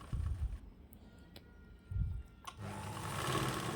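A sewing machine runs in short bursts, stitching the lining of a blouse; its quick mechanical whirr stops and starts before settling into a steadier run. The machine is close and moderately loud, with no talking.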